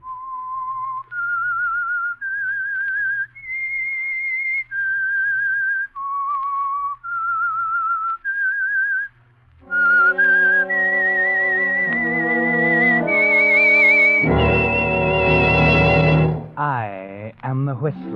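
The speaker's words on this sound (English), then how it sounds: "That whistle is your signal for the Signal Oil Program" A whistled melody opens The Whistler radio show, a clear solo tune of sustained pitched notes rising and falling, followed by a fuller orchestral swell that carries the same theme.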